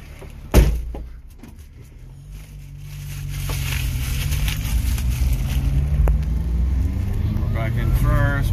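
A Subaru Sambar KS4 mini truck drives along, its low engine rumble building as it pulls away after a sharp knock near the start, with wind noise over the microphone.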